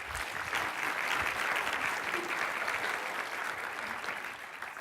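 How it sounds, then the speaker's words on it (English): Sustained audience applause for a speaker being introduced at a clinical-care visualization talk, a dense steady wash of clapping from a room full of people, holding at even loudness before tapering slightly at the end. "Please give him a big round of applause."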